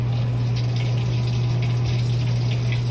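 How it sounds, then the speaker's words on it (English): Water valves filling a Maytag Commercial Technology washer on a quick wash, a steady close hiss of inflowing water over a constant low hum, with no talk. "I hear the water valves."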